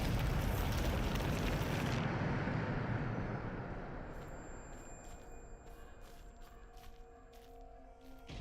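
A Bombarda spell explosion in a Hogwarts video game erupts as a loud, broad blast that holds for about two seconds, then fades into a lingering rumble with faint, scattered clicks.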